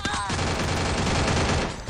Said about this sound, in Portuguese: tô tomando tiro daqui de cima